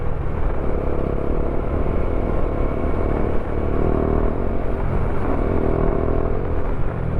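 Motorcycles and cars pass in road traffic on a Philippine route between Cardona and Caloocan, a steady, loud engine rumble with continuous drone and no voices.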